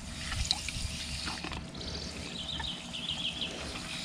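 A seashell soaking in muriatic acid fizzes with a close, quiet bubbling hiss and faint crackles, a continuous effervescent wash without talking.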